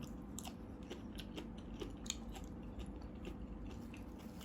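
Close chewing of crunchy pickled shrimp makes soft, repeated crisp bites and moist crunches at a quiet, even level with no talking.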